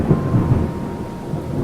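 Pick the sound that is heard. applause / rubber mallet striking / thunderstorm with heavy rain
thunderstorm with heavy rain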